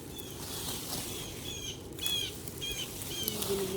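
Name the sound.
birds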